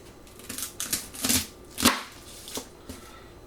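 A knife slicing through heads of garlic on a cutting board, several quick crunchy cuts with soft board knocks spaced unevenly, close and fairly loud.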